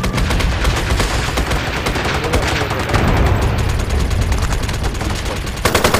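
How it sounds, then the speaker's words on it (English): Rapid bursts of automatic gunfire and explosions fill a battle scene in the online shooter game MAG, dense, loud, overlapping volleys continuing throughout without talk. "it's just freaking fun to see all the gunfire."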